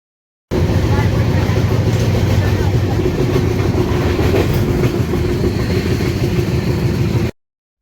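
A train bound for Puri rolls along the rails with a loud, continuous rumble and rhythmic wheel clatter that runs steadily for about seven seconds.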